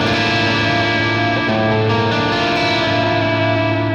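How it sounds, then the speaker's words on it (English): An exotic, mysterious Phrygian chord strummed on an electric guitar through effects rings out steadily with a few restrikes, sustained and close, with no talking. "this next chord I want to show you is what is called the Phrygian chord,"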